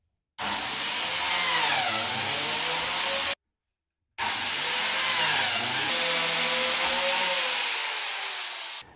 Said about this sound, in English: you can set the plunge depth depending on what size biscuit you want to use, and then plunge in